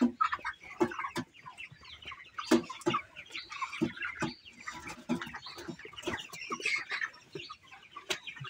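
Several farm chickens cluck and squawk in uneven, overlapping bursts, some close and some farther off, continuing for several seconds without any talk.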